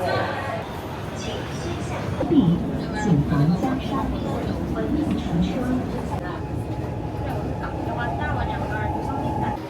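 A Changsha metro train running deep underground, a sustained rumble and roar of the carriage with some rising and falling whine, heard with people talking throughout.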